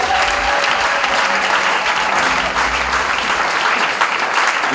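A church congregation claps and applauds loudly and continuously throughout, a dense wash of many hands with faint crowd voices mixed in.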